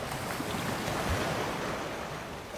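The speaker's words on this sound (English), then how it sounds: "sit by the water, just close your eyes, follow the rhythm of the waves" Ocean waves by the water in Victoria roll and wash continuously against the shore, a steady broadband surf with some wind, close and fairly loud, no voices.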